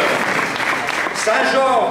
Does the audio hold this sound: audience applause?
yes